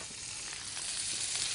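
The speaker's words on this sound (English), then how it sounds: "the cumin seeds sizzle for 5 seconds" Cumin seeds and onions sizzle in hot oil in a karahi, a close, steady bright hiss of frying that swells slightly, with no talking.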